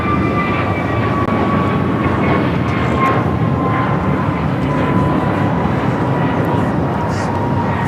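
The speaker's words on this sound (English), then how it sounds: "This is American Airlines Flight 1590 taking off to Charlotte on the A321neo" An American Airlines A321neo jet takes off from LAX as a loud, steady, broadband engine roar that fills the whole clip, with a faint tonal whine riding on top and no speech.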